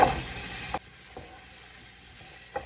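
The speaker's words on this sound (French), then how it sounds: "On fait chauffer un peu d'huile. Je vais commencer avec les oignons." Onions dropped into hot oil, a loud bright sizzle that cuts off abruptly after under a second, followed by a low quiet frying crackle with a couple of soft clinks.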